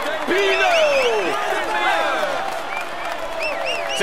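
A roadside crowd at stage 16 of the 2015 Tour de France into Gap applauds FDJ rider Thibaut Pinot in the white jersey, with loud sustained clapping mixed with shouts, whistles and cheering voices close by.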